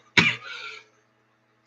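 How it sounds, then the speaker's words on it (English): A single indoor cough, sharp and close, fading into a short breathy tail, then quiet with a brief faint sound at the end. "Excuse me if I'm coughing."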